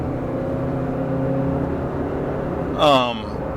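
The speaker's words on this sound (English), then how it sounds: "I'm in the car, as you can tell." A car driving, heard from inside the cabin, with a steady low engine and road rumble throughout and a brief louder rising whine near the end.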